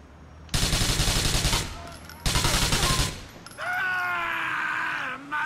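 Automatic gunfire in GTA IV rattles out in two long, loud bursts of rapid shots with a short pause between them, then gives way to a steady whining tone.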